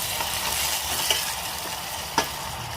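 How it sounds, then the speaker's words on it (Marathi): Potato slices being stirred and sautéed in a hot spice tempering: a steady sizzle runs throughout, with a couple of sharp spoon scrapes against the pan and no talking. "आता ह्या बटाट्याच्या काचऱ्या घालायच्या आहेत आणि छान परतून घ्यायचं आहे सगळं फोडणीमध्ये"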